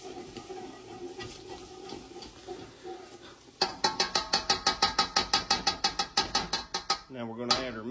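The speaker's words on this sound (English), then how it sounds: "Get our roux mixed in there good." A roux is whisked in a pan. Soft sizzling gives way to a fast run of about twenty sharp, evenly spaced tapping strokes, and a voice briefly speaks at the end.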